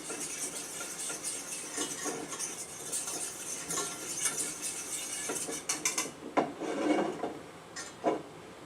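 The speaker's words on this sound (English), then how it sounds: "I like to keep stirring it. I just use a little whisk." Small whisk scraping and stirring pesto in a pot, a continuous close rasping rub with clinks and louder strokes toward the end.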